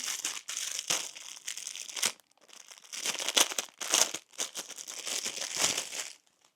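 A Temu parcel's plastic packaging being torn open and crumpled, holding a bamboo whisk inside; close, continuous crinkling and rustling in bursts with brief pauses, no voices.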